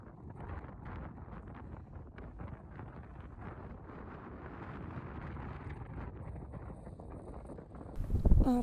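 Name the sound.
strong cold wind on a mountain top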